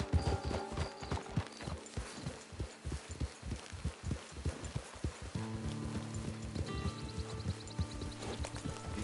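Horse hooves clip-clop in Red Dead Redemption 2, a rhythmic clatter of steps that slows and then stops, after which quiet music and ambient tones take over.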